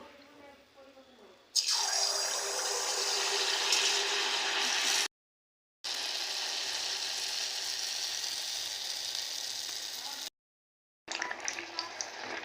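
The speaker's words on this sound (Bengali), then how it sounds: "এবারে আমি মালপোয়া ভেজে নেব।" Malpua batter fries in hot oil with a loud, hissing sizzle that comes in three long stretches separated by brief silences, following a quieter opening.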